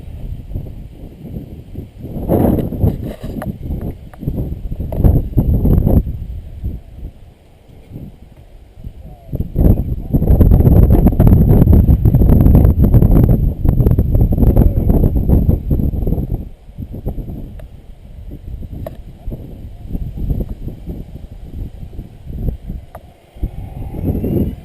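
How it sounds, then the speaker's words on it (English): Strong wind gusts buffet the microphone at an outdoor model-airplane flying field, roaring in loud surges that swell and fade over a steady low rush, with a person talking in between. "here comes some good, strong gusts now."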